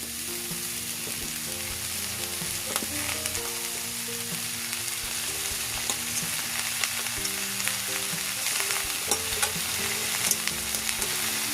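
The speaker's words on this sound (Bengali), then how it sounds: "সব ফুলগুলো দেয়া হয়ে গেছে খুব ভালো করে সবজির সাথে ফুলটাও কষে নিচ্ছি" Drumstick flowers being stir-fried with vegetables and spices in a pan give a steady, close sizzle and crackle, with scraping stirring strokes and a faint tonal hum underneath.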